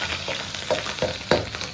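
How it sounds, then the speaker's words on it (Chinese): Scallion and ginger hit hot salad oil and lard in a wok, a loud continuous sizzle with several sharp stirring scrapes breaking through, no voices. "色拉油放上30克，猪大油是20克啊，放入葱姜"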